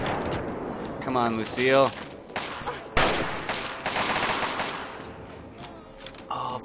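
Gunfire in the video game Fallout 3, with bursts of rapid shots breaking out between a player's excited talk and a game character's shouted voice, loud and close.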